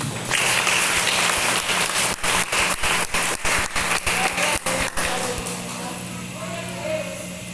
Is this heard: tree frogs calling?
no